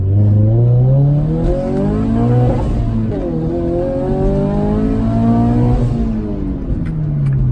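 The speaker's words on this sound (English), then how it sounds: "We're gonna make a quick little pull, go see if we can get to third gear." A turbocharged Scion FR-S accelerates hard from inside the car, its loud engine note climbing steadily through first gear, dropping at the shift, then rising again through second.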